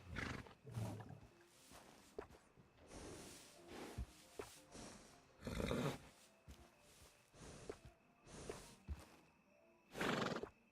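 Several horse neighs and snorts ring out in bursts among clopping and rustling game sounds in Red Dead Redemption 2, fairly loud against a quiet background.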